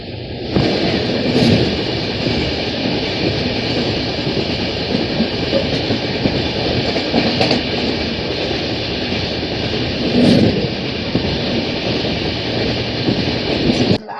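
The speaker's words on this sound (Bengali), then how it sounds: "হাওড়া থেকে মুম্বাইগামী মুম্বাই মেল" The 12321 Howrah–Mumbai Mail rushes past as a loud, continuous roar of rolling wagons with faint rhythmic clatter, steady throughout and close by.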